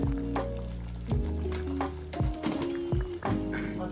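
Basale greens sambar boils in a pot on the stove as coriander powder goes in. Close bubbling and sizzling come in repeated short bursts, with stirring thunks between them.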